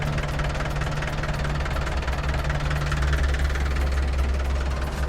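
A Yanmar EF453T 45-horsepower tractor's diesel engine runs close by with a loud, steady, knocking hum and a strong low tone that never lets up, with no talking.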